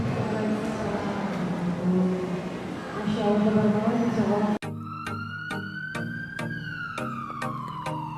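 An ambulance siren wails with a sliding, falling tone over sharp repeated clicks, starting abruptly after a stretch of voices and background noise.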